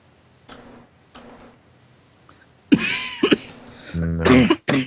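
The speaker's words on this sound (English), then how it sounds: "Well-timed cough." A single sharp cough bursts out close and loud, followed by throat noises and a brief voice, after a few faint soft sounds in a quiet room.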